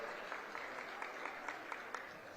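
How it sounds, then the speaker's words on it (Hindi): Audience clapping at an open-air farmers' conference and aid distribution ceremony as a local legislator is welcomed on stage, a steady, moderately faint wash of applause with scattered sharper claps throughout. "उनके लिए भी ताली बजा करके स्वागत करो।"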